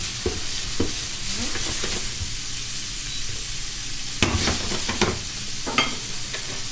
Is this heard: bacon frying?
yes